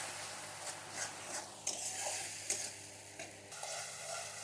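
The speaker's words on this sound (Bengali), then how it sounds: "দিয়ে দিচ্ছি 1/2 চামচ হলুদ গুঁড়ি, আর 1/2 চামচ লবণ দিয়ে ভালো করে কষিয়ে নেব" Fish masala with turmeric and salt being sautéed in oil, a soft steady sizzle with a few clicking utensil scrapes and knocks, close but fairly quiet, no voices.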